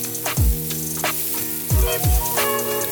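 Tomato, onion and corn frying in a pan being stirred, with a few deep thumping knocks and clatters over a soft sizzle, close and brief.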